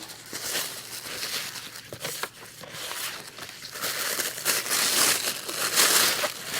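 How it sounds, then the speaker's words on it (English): Tissue paper is torn and crumpled by hand for a craft background, producing close crinkling and ripping sounds that swell louder toward the end, with no talk. "So what I do with the tissue paper is just rip."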